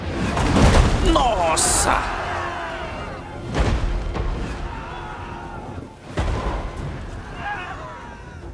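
Siege artillery in Total War Three Kingdoms hurls boulders, with a few heavy booming launches and impacts spaced a couple of seconds apart under excited talk.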